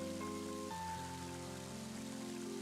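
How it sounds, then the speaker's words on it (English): Steady hiss of rain falls in the Mother 3 video game, running continuously beneath sustained melodic background music for the whole stretch. "And it's raining."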